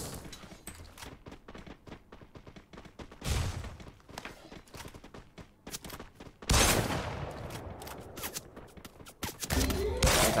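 Gunfire in the battle-royale game Free Fire during a scrim match, with scattered single shots and rapid bursts throughout, growing into louder, denser volleys near the middle and end.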